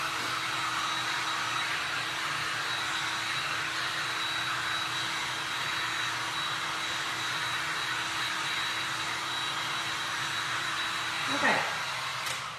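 A dryer blowing steadily over a glass and resin art piece, a constant loud whirring hum that runs unbroken throughout, with a brief bump of handling near the end.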